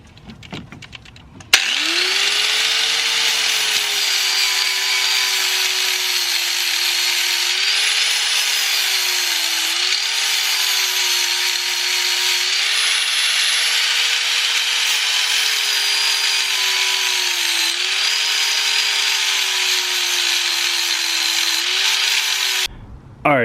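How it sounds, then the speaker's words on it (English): A power tool grinds down metal fork spacer parts for an all-wheel-drive setup, giving a loud, continuous whine that starts abruptly, holds steady for about twenty seconds with slight pitch dips under load, then stops. "I would rather grind these right here and make them a little bit thinner so that way the fork will go on it."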